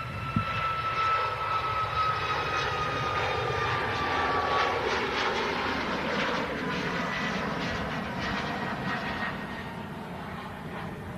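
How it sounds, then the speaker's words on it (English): A TUI airliner departs with a steady, distant roaring engine noise and a faint whining tone, heard throughout at moderate volume outdoors with no talk over it. "And out goes the TUI on the way out."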